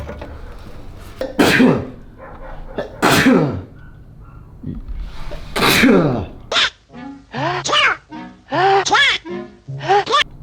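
A series of loud, squeaky sneezes, several in quick succession, with some throat noises between them; the sneezes sound oddly nasal and duck-like.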